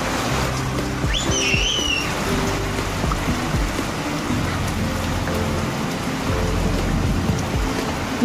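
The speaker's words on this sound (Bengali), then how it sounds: "মেঘ ডাকছে, চলে এসো।" Steady heavy rain falls on surfaces outdoors, with low thunder rumbling underneath throughout, loud and continuous, and a brief chirp or whistle over the top early on.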